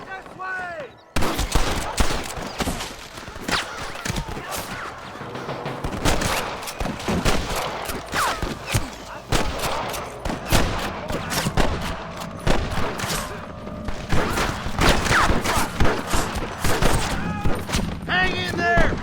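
Gunfire in a Red Dead Redemption shootout at a ranch: dense, loud volleys of rifle and pistol shots overlapping in rapid irregular bursts, with shouted voices mixed in.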